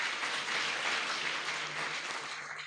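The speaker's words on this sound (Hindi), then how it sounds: "ताली किसके लिए बजाया?" An audience clapping at an award ceremony, a dense, steady wash of applause that holds at even loudness from start to finish with no voices over it.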